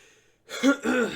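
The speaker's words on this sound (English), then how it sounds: "I'm probably going to be clearing my throat a lot." A single short throat clearing, two rough guttural bursts close to the mic after a brief silence.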